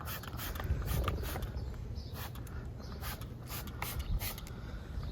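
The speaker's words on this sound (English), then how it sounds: "I'm going to spray evenly on the entire door." Invisible Glass cleaner is sprayed across a car door window in a quick series of short, crisp hissing bursts, close and fairly loud, with light rubbing and handling noise between the sprays.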